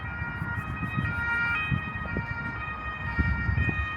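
Ambulance sirens sweep past on a busy street during the Lyon festival of lights, a steady wailing tone running throughout over loud crowd and traffic rumble.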